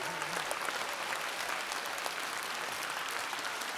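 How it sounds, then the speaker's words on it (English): An audience at a convention gives a standing ovation of steady, even applause, a broad wash of many hands clapping from some distance, with no pause. "I think that we should stand up and just applaud"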